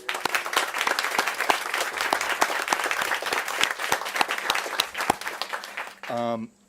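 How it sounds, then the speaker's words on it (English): Audience applause at an Ohio event marking the Ashtabula River cleanup and delisting, a steady burst of many hands clapping that fills the room and then gives way to someone speaking near the microphone. "I think that deserves a round of applause."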